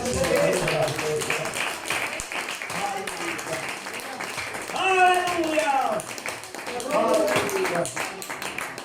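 Congregation clapping and cheering during a Pentecostal church service, a dense sustained patter of applause with voices calling out over it and a preacher speaking through the noise.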